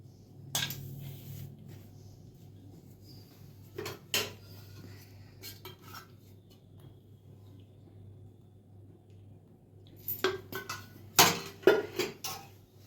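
Fafda dough ingredients get mixed in a bowl, with sporadic clinks and scrapes of a utensil against the bowl, quiet pauses between bursts of activity and no voices.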